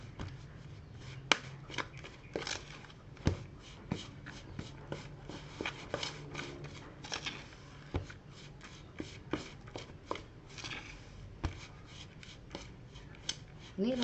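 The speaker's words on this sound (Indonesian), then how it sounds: "Ini pakai sendok saya aduknya." A spoon stirs bread dough in a bowl for white sandwich loaf, giving soft, irregular scraping and thudding strokes at close range, with occasional quiet speech.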